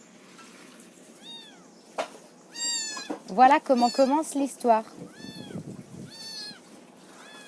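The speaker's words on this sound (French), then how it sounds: "J'ai un petit chat avec moi qui est très très très bavard" A small, talkative cat meows repeatedly in short rising and falling calls, close and fairly loud, interleaved with a person speaking over it.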